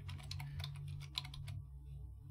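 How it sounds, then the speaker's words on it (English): Rapid typing on a computer keyboard, a steady run of light key clicks close to the microphone that stops partway and leaves a low hum. "I'm going to have to type it."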